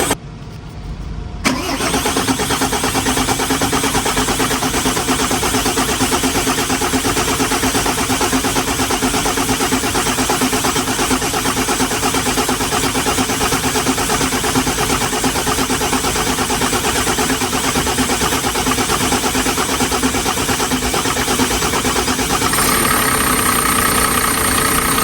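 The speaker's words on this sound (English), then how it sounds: "you can turn it over by pressing this button." Mercedes Econic truck engine cranked from an external red start button, catching after about a second and settling into a loud, steady close-range diesel idle that runs on unchanged.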